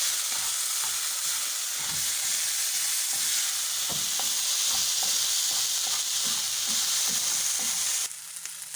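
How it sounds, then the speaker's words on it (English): Garlic and ginger frying in a pan for beef broccoli, a steady close hiss and sizzle with light stirring taps throughout, quietening slightly at the end. "Then I add my garlic and ginger. Let them cook for"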